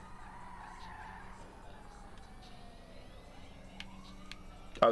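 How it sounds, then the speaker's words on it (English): Car tyres squeal in a long, wavering skid as a car drifts in Grand Theft Auto 5, fairly quiet under a low engine hum, with a siren-like tone and a sudden loud knock at the end. "My drifting skills are A1."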